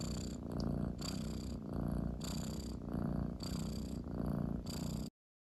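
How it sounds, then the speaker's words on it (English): A cat purring loudly and close, a steady rumbling purr pulsing in rhythmic waves with each breath, continuous and alone. "She purrs so loud"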